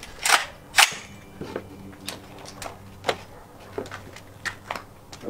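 A full-auto firearm shooting at a pumpkin outdoors: two loud sharp reports up front, then a string of quieter, scattered cracks and clicks.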